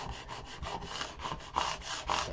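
Credit card burnished across transfer tape and vinyl on a wooden tag sign, giving close, scratchy back-and-forth rubbing strokes with a couple of sharper scrapes near the end.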